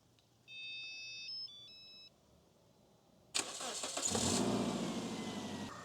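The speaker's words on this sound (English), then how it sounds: "Start the engine." A car engine cranks and starts during a 12 V battery load test, preceded by electronic beeping tones from the tester, then settles into a steady, close idle.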